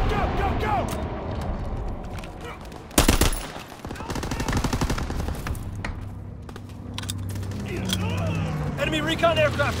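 An aircraft strafing run in Call of Duty WWII, heard as rapid bursts of machine-gun fire and mechanical rattling, with one loud close blast near the middle and clattering gunfire continuing afterward.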